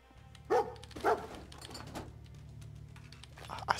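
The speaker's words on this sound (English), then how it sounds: "My dog can hear the dog barking through my headphones." In Fallout 4, a dog barks in two short, distinct bursts followed by a fainter third, heard within the game's quiet ambient background.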